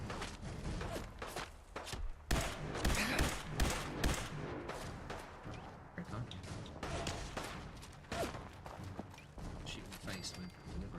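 Gunfire in Fallout 4 in foggy Far Harbor, a string of sharp shots and thumps at irregular intervals, fairly faint and mixed with other game noise.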